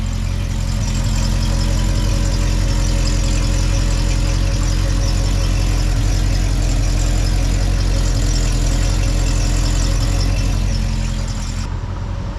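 1974 Ford truck engine idling on a temporary exhaust, a loud, steady low rumble up close that cuts off near the end.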